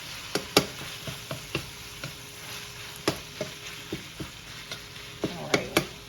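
Ground beef browning in a pan sizzles softly and steadily, while a utensil breaks it up with sharp, irregular scraping taps and knocks, close by and with no talk.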